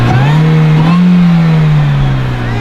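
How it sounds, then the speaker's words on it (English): A 2008 MINI Cooper S Convertible revs its supercharged engine under acceleration, a loud, steady engine drone with a rising supercharger whine, heard up close from inside the car. "up front here, I can hear the whine of the supercharger"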